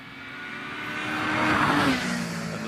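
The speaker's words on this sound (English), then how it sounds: "V8 rear-engined Ferrari. Making those lovely noises," A rear-engined V8 Ferrari revs to about 8,500 rpm at the Shelsley Walsh hill climb, climbing in pitch, swelling to a peak, then easing slightly, heard alone at moderate distance.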